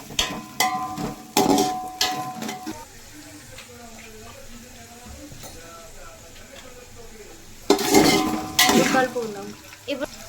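Onions, chillies and curry leaves frying in oil for dum chicken biryani get stirred in a pan, with bursts of loud scraping and clatter at the start and again near the end over a constant sizzle, and a voice talking in between.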